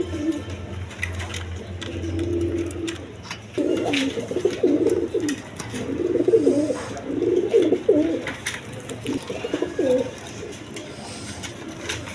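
A pair of high-flying Giribaz pigeons coo close by, starting soft and then breaking into repeated bursts of throaty, rolling calls.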